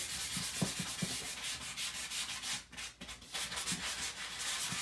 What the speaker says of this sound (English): This is just the final sanding to get it all smooth